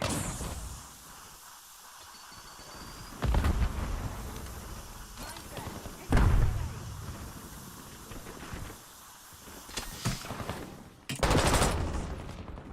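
Shotguns fire in a video game as a few loud, separate blasts spaced several seconds apart, each with a short crackling tail. A voice talks between the shots.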